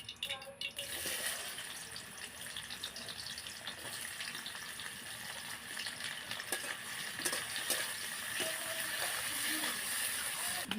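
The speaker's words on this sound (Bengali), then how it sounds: "তেলের মধ্যে দেবো পেঁয়াজ" Onions frying in hot white oil sizzle and crackle steadily, a bright, close hiss with occasional louder pops and stirring sounds.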